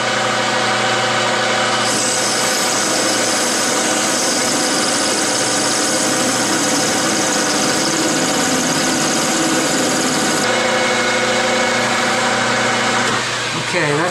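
Friction welding machine spinning at about 1,000 RPM, a loud steady mechanical whir and grind with a shifting pitch, close and continuous, ending with a brief change as it winds down.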